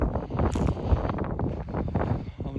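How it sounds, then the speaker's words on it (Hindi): Strong, cold winter wind at minus four degrees buffets a microphone outdoors in China, making a steady loud rumbling roar with gusty low-frequency swells across the whole stretch. "इस वक्त -4 टेम्परेचर है और बहुत तेज़ हवा चल रही है"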